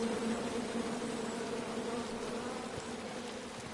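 Angry bees in King's Quest make a dense, steady buzzing swarm that fills the whole stretch, loud and continuous with no talk.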